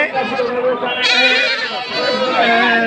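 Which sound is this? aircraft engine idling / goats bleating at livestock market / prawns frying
goats bleating at livestock market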